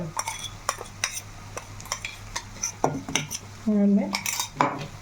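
A metal spoon stirring chicken fry coated in dried red chilli paste masala in a pan, repeated scraping clinks and knocks against the metal over a faint sizzle.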